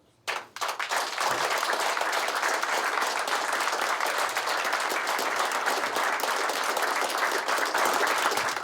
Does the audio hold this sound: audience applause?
yes